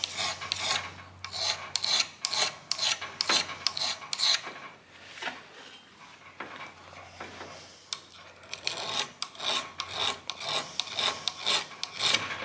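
Hand scraper rasping over a steam engine bearing for a precision fit, a close run of short, bright strokes in quick bursts, pausing briefly in the middle before the scraping resumes.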